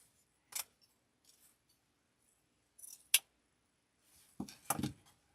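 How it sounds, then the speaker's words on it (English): Scissors trim the ends of zip-tied artificial floral stems for a patriotic door hanger, giving a few sparse, crisp snips with quiet pauses between them and no talking. "all I have to do is actually come in and trim up my stems to where the stem part is not sticking out."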